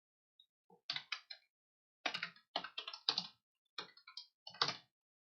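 Computer keyboard typing while coding during a game jam: bursts of close, crisp key clicks in short clusters with brief pauses between, no talking.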